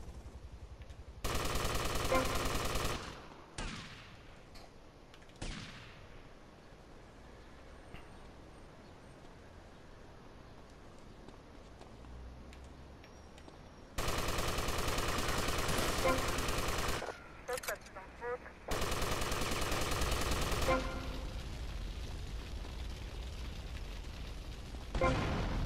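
Loud bursts of rapid automatic gunfire in GTA Vice City Definitive Edition come in several sustained volleys of a few seconds each, separated by quieter stretches with scattered shots and game ambience.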